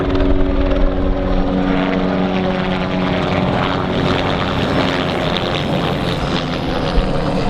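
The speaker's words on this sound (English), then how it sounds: "have we got a helicopter coming in?" A helicopter passes overhead with a loud, continuous rotor and engine roar that stays steady and close throughout.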